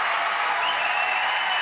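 An arena crowd at a badminton semifinal applauds in a dense, steady wash of clapping, loud and continuous with a few whistles and cheers running through it.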